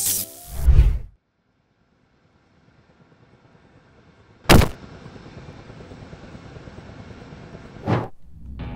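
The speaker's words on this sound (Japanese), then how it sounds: "なんかヘリの音聞こえへん、これ。" A helicopter flying over a Minecraft island, heard as a steady broadband whir that persists for several seconds after a few sharp, loud bursts, with no voices.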